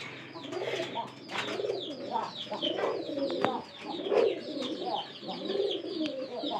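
Racing pigeons coo in soft, repeated throaty rolls, several birds close by, with faint rustling and a chirp now and then.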